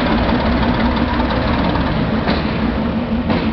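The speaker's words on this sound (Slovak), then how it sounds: "V tejto lokomotíve je použitý 6-válcový dízlový motor o priemere 310 mm preplňovaný." A ČSD T478 diesel locomotive's turbocharged six-cylinder engine idles nearby at a rail event in Bratislava, a steady, loud, rumbling drone with a faint rhythmic knock and no talking.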